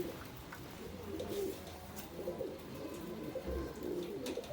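Pigeons cooing on a balcony, soft low murmuring coos running steadily under a faint background hum, with a few scattered small sounds; no voices.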